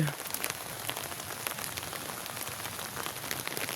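Steady rain pours on a wet morning, a dense, even patter of drops with occasional closer splashes, fairly soft and with no voices.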